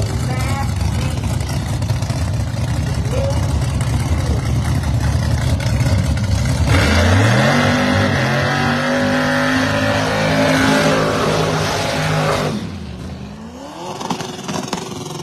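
Drag racing at Cecil County Dragway, including a small-block single-turbo car: a loud engine roar builds and revs upward with rising pitch, then drops away as the car pulls off, while a commentator talks over it.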